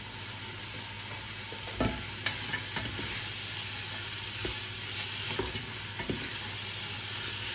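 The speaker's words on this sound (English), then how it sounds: "I'm now frying onions and garlic in a pan." Steady sizzling of onions and garlic frying in a hot pan, with occasional clinks and stirring knocks from a utensil, no talking.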